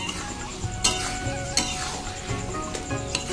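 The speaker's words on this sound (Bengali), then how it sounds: "আমি পুরো কড়াইয়ের মধ্যে কচু শাকটাকে ঘুরাচ্ছি দেখো" Taro leaves stirred around a wok while frying, a steady sizzle broken by a few sharp scrapes and clanks of the spatula against the pan, close and moderately loud, with no talking.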